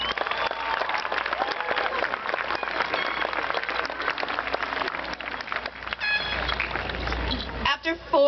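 Audience applause at a commencement ceremony, a dense, steady wash of clapping from a large crowd that carries on for several seconds before thinning out near the end.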